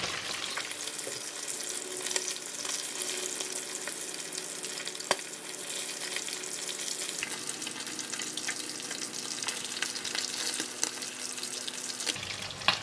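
Whiting fish frying in a pan with garlic and turmeric, a steady dense hiss and crackle of hot oil, close and continuous, stopping abruptly near the end.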